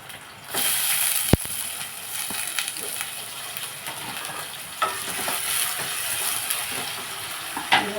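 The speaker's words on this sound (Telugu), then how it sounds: "కొన్ని ఆయిల్ వేసి ఉల్లిపాయ ముక్కలు వేసేస్తున్నాను పచ్చిమిరకాయలు" Onion pieces and green chillies frying in oil give a continuous crackling sizzle with a sharp clank near the start and scattered utensil taps and stirring throughout.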